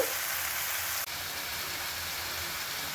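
Onions and mixed vegetables sauté in a pan with a steady, broad crackling sizzle running throughout, briefly dipping once as if stirred, with no voices.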